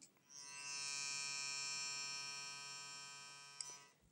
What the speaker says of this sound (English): Let's compare the sound slash volume of these two toothbrushes.